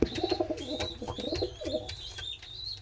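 Pigeons coo softly in a garden loft in low, rolling murmurs, with repeated calls overlapping against a quiet backdrop of faint chirps.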